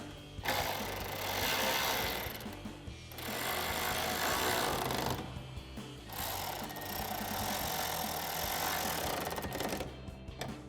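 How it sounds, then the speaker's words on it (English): Ratchet with a shallow 10mm socket tightening bolts during a 2024-2026 Mustang GT upper grille install, a steady rapid clicking in loud sustained bursts with short pauses between them, close up. "I'm going to take my ratchet with the shallow 10mm socket and tighten those down"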